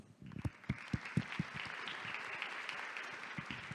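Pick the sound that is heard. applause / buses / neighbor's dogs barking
applause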